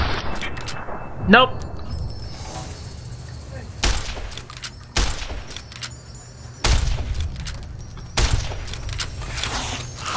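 Gunfire in Fallout: New Vegas, several sharp shots spaced a few seconds apart among clanking and rattling game effects, with a man's brief exclamation partway through.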